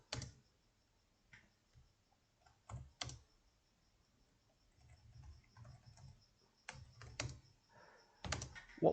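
Code being typed on a computer keyboard: quiet, close keystrokes come in short irregular bursts separated by pauses, with no voices.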